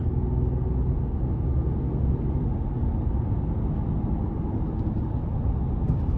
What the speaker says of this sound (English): Pretty good throttle response coming out the gate